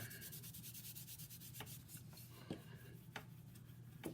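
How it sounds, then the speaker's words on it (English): Fingers rub cardstock onto polymer clay, producing faint, close, papery swishing strokes in a quiet room, with a few slightly sharper scrapes near the end. "Give it a little rub with my fingers for some heat in there."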